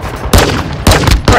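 Loud, dense bursts of gunfire in a video game shooter, three heavy volleys in quick succession, close and overwhelming.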